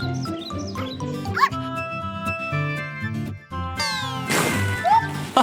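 High cartoon kittens meow in a few short, rising calls over bouncy children's music as they run from a purple bus to a playground ball pit.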